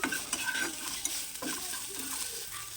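Chopped onion and green chili fry in a pan for homemade noodles, a soft steady sizzle broken by a few stirring scrapes and light utensil taps close by.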